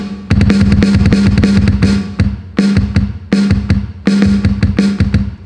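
A Casio CT-X5000 keyboard phrase-pad pattern alternating deep kick thumps and crisp snare hits in a steady rhythm, loud and close, with short pauses between phrases.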